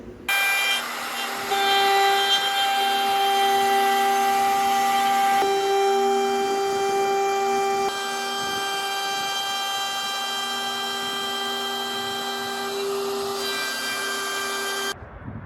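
A power saw runs steadily outdoors, cutting in steps through a wooden altar top, its motor holding a sustained whine throughout with a brief change in tone partway through.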